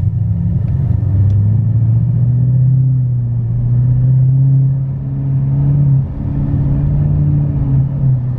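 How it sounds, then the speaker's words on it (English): A deep, steady L5P Duramax diesel pickup engine rumble, shuddering with a low, wavering throb, close and continuous, swelling slightly and dipping briefly before settling again. "you can feel it more in the truck that it's kind of shuddering"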